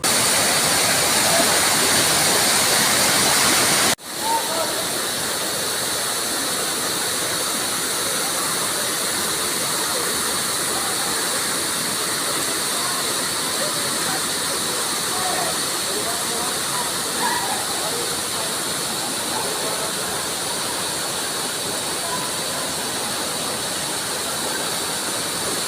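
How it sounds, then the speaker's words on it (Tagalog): Vera Falls in Albay rushes in a continuous, loud roar of falling water, a broad steady wash after a brief knock near the start, with no voices standing out. "ipaparinig ko sa inyo ang ingay ng Vera Falls"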